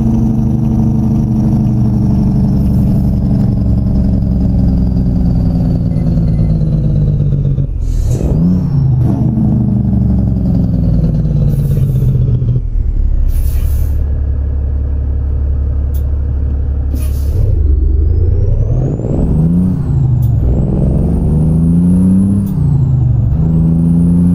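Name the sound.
truck engine and exhaust in video game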